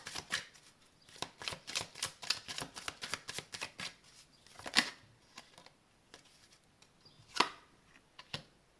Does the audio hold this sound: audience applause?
no